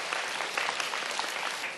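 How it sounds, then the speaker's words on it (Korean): Audience applause at a high school science quiz competition, a dense, even burst of clapping filling the whole short moment. "큰 박수 부탁드릴게요"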